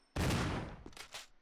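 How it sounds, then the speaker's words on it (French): In a survival video game played as Jill, a burst of gunfire erupts: one loud, dense blast followed by a few quicker, weaker shots trailing off, close and sharp with no talk over it. "Faut que je tire 4 balles, allez."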